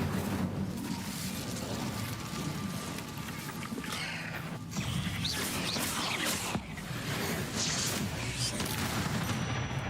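Bombarda and Incendio spell blasts burst out in quick succession during Hogwarts Legacy combat, dense and loud, with crackling bangs and fiery whooshes layered over a busy battle din.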